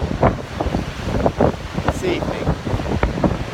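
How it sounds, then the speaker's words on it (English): Strong wind buffets a microphone outdoors on a very windy evening during a photo shoot, rumbling gusts in bursts beneath someone talking over it. "Very, very windy."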